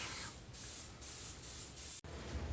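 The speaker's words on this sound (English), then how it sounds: "Basically, I was spraying just solvent and pigment" A spray gun sprays thin gold base coat paint of solvent and pigment in a booth, a close, loud hiss in bursts of roughly half a second with brief gaps between passes.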